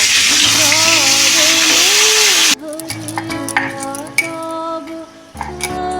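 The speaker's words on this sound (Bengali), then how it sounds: "এখন পটলটাকে আমি হালকা করে ভেজে নেব" Pointed gourd (potol) fries in hot oil in a wok, a steady sizzle that drops away midway, followed by clinks and scraping of stirring against the pan, with brief background voices.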